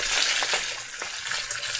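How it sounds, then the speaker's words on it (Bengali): A fish head fries in a pan with spices, giving a steady, loud, close sizzle and hiss that runs throughout with slight swells and no talking. "তো এখানে দেখো মাছের মাথাটা ভাজা হচ্ছে।"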